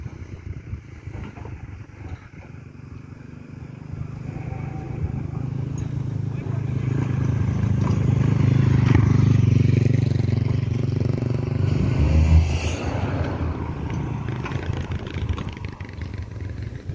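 A motorcycle on a coastal main road swells from a distance into a loud, close rumble, peaks as it passes, then fades, with roadside wind and ambient clatter around it.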